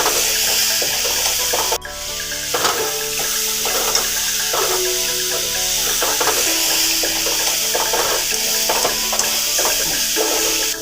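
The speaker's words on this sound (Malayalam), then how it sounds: "ഇനി പച്ചമണം പോകണ വരെ വഴറ്റിയെടുക്കാം." Onion, garlic-ginger paste, green chilli and tomato sauté in a hot pan for a prawn fry masala: a steady, close sizzle broken by repeated scraping stirs, with a faint tonal hum underneath.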